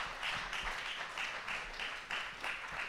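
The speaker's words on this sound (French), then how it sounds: "On peut l'applaudir." A university lecture audience applauds to welcome a speaker onto the stage, with steady, fairly loud clapping throughout and rhythmic swells of clapping.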